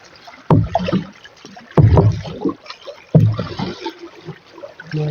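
Water rushing and splashing against a small wooden boat (a baruto) on a river with a strong current; three surging splashes arrive at regular intervals, close and loud, with low gurgling between them.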